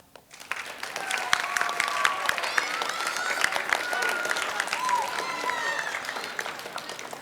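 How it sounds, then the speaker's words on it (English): Middle school students at a winter band concert give their families a round of applause, dense clapping from a crowd in a hall building quickly and holding steady for several seconds before easing slightly. "all of the students are going to give their families a round of applause"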